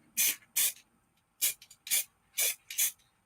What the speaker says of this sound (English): So I'm going to aim the layering spray